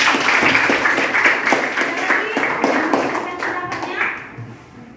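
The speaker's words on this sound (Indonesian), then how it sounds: "Oke, tepuk tangan dulu." Classroom of children clapping together in a dense, steady burst of claps that fills most of the clip, then thins out and fades near the end, with faint young voices mixed in.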